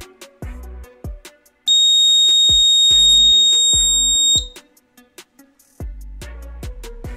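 A homemade liquid level detector for non-metallic tanks sounds its water level alarm: a steady, loud electronic beep tone holding for about three seconds, set between sharp clicks and knocks of handling on the bench.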